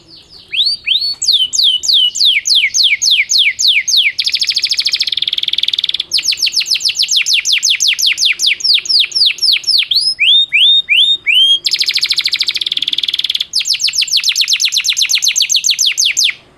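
A canary sings loud and close, with rapid trilling chirps and whistled phrases running almost without pause, broken by a few harsher buzzy rolls, the bird heard alone.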